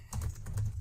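Rapid clicks of typing on a computer keyboard, several quick keystrokes in an even rhythm, close and clear with no talking.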